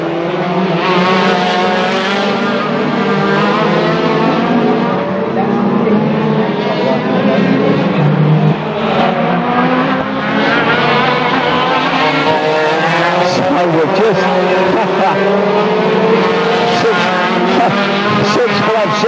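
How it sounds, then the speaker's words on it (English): Retro hot rod cars race around the Arena Essex Raceway oval, their engines a loud sustained roar with shifting pitch throughout, heard under continuous commentary. "146 leading the retro hot rods round"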